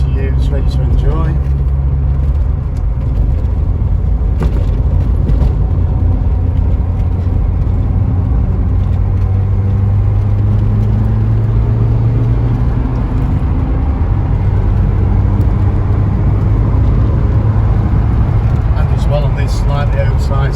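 A 1985 Ford Escort RS Turbo on slightly oversized Michelin tyres cruises in fifth gear at about 50 mph, its steady low engine and road drone continuous and close under someone talking.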